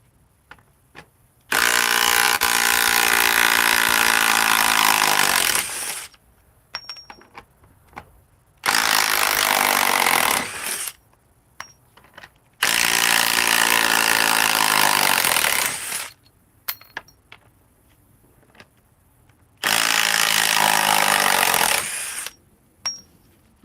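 A DeWalt power tool, its motor getting warm and spitting grease, runs in four loud sustained bursts of several seconds each, with short quiet gaps and faint clicks between them.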